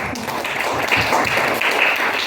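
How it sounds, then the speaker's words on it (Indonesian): Congregation applause at a church service, a brief burst of scattered clapping that fills the short moment without speech over it. "Mari kita tepuk tangan dulu"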